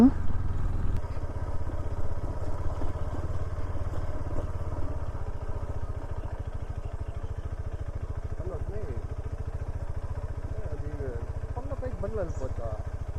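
A motorcycle rides along an off-road hill route, its engine a steady mid-pitched drone with clatter, close and constant throughout.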